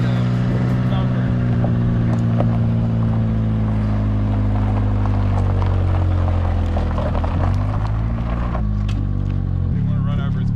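A 1986 Ford Mustang Foxbody coupe with a 4-speed manual drives, its loud, steady engine drone filling the cabin up close, with people talking over it.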